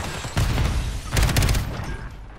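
Gunfire from an SMG in Call of Duty, delivered as two loud, dense bursts of rapid shots close up, the second burst longer, with no talking over them.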